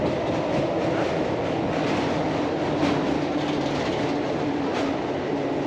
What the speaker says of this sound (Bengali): এক্সপ্রেস ট্রেন, ওটা এক্সপ্রেস ট্রেন।